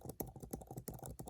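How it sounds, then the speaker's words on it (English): Quick, close typing on an iPad Pro 12.9-inch Magic Keyboard, a steady run of soft, muted key clicks. "you type it on this thing"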